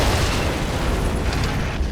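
A huge explosion in the Army Men of War game, a loud, sustained, noisy blast that rumbles across its full length with no voices over it.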